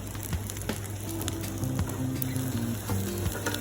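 Large shrimp frying in a pan over medium-high heat, a close, crackling sizzle with scattered pops and light scraping of a utensil against the pan, no speech.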